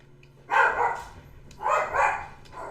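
A pet dog barks at home, giving two or three close, loud barks with short gaps between them.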